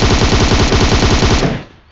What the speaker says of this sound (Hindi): अरे बीन जिस साइड तू था ना, उस साइड तो गोलियां पड़ रही थी।